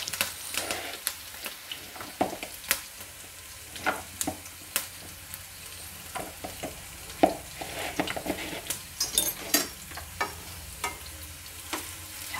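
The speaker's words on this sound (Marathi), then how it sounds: "आता आपण तेल पण छानपैकी तापलं आहे, असं पॅन वगैरे घ्यायचं, ना तर कढई घ्यायची, आणि आपण ह्याला असं फ्राय करून घ्यायचं आहे।" Okra (bhindi) frying in hot oil in a pan or kadai for crispy masala bhindi, a steady close sizzle broken by frequent sharp crackles and spatters, with no talking.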